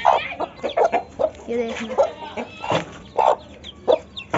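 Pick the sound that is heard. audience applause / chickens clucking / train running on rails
chickens clucking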